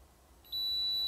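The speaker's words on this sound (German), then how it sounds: "dann geht ein Mann-über-Bord-Alarm an der aktuellen Position" A man-overboard alarm on a boat's navigation device starts abruptly partway through, then holds as a steady, piercing high-pitched electronic beep tone.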